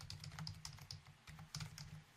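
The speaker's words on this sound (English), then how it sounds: "I'm sorry for typing." Rapid keystrokes on a computer keyboard clatter close by in uneven bursts with short pauses, alone and without any voice.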